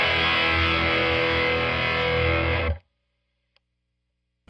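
Electric guitar with a second overdrive stage stacked on top as a boost, giving a thick, loud, sustained chord that holds steady for nearly three seconds, then stops dead into silence.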